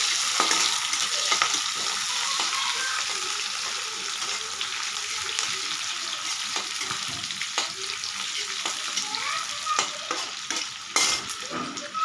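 Onion and jackfruit pieces fry in a pan while being stirred, a continuous close sizzle with repeated spoon scrapes and clinks against the metal across the whole stretch.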